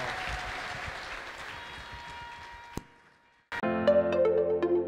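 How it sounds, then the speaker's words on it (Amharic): At a church gathering, a faint crowd murmur fades into a brief lull. Then loud, dense applause from an audience breaks out and carries on until the end. "አጨብጭቡላችሁ ለአባታ።"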